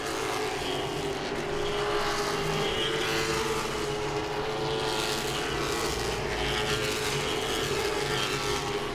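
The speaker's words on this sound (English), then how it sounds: "Mark Wirtz again inches up on the back end of that 97 car of Greg Edwards" Late model race cars circle Langley Speedway in a steady, continuous engine roar that stays loud throughout, with the broad drone of several cars blending together and no break in the noise.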